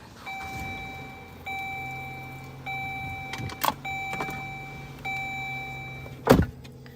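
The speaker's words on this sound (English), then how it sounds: "Let's turn on the car to get the AC going." A car with its air conditioning switched on, heard as steady interior tones and hum with repeated electronic chimes, plus a few sharp clicks and thumps from inside the cabin. No one speaks.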